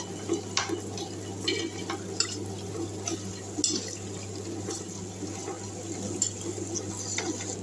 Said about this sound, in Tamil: இப்போது இது கொஞ்சமாக வந்து தண்ணி ஊற்றிக்கலாம்